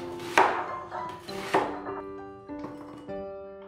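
Knife slicing onion on a cutting board, several distinct chops spaced irregularly, close and clear, each sharp thunk followed by a brief ringing tone.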